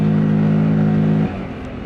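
A Loncin XWolf ATV engine drones loudly and close with a strong steady tone while riding off-road, then the note drops and eases off after about a second.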